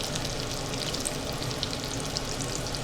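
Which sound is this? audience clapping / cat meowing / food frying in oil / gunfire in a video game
food frying in oil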